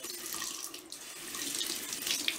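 Water runs steadily from a sink faucet during a clogged-sink drain-snake job, a continuous hissing splash that stays close and fairly even throughout, with no voices.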